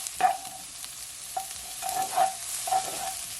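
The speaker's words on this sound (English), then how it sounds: "You want to just continue to stir it." Salt and pepper shrimp with spring onions and chili peppers cooks in a pan, a quiet background sizzle broken by several ringing clinks and scrapes of a utensil stirring against the metal, near and intermittent.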